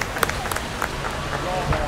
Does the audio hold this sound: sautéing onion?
no